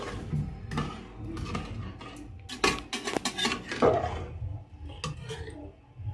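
Cashews go into a pan during home cooking for a New Year meal, with utensils clinking and scraping against metal cookware in irregular, close, sharp taps and stirs, several louder clatters midway.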